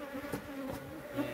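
Wild honey bees buzz around a honey-filled nest on a risky cliff-side rock face, a close, wavering hum with brief swells and flickers as individual bees pass near.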